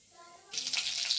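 Curry leaves dropped into hot oil already holding crackled mustard seeds and cumin for a Marathi kande pohe tempering, breaking into a loud, steady hiss and sizzle close by after a quiet start.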